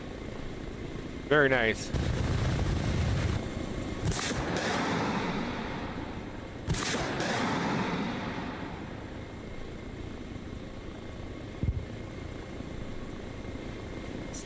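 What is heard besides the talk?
missiles fired from a helicopter in Arma Reforger video game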